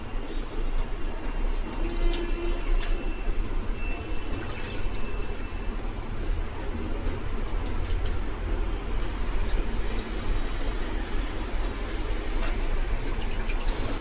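Indori betel leaves are rinsed under running water, which makes a steady, continuous rushing hiss that stays even throughout with no talking.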